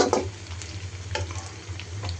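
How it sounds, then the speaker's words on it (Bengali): Soft, steady sizzling of onion, garlic and green chillies frying in hot oil, with a few scraping stirs, close by and fairly quiet with no talking. "এখানে আমি তেল গরম করে পেঁয়াজ, রসুন, কাঁচামরিচ তেলের মধ্যে ভাজতেছি।"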